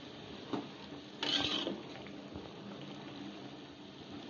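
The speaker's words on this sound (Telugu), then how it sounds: "వాటర్ కూడా మరుగుతున్నాయి" Pot of water boiling on the stove while cooking vegetable biryani, a faint low bubbling hiss with a few brief louder surges and clinks, quiet and close.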